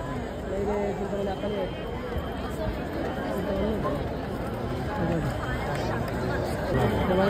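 Dense crowd chatter fills the main gate area during the Lalbaugcha Raja Ganesh immersion procession in Mumbai, a constant close hubbub of many overlapping voices with a nearby person talking over it.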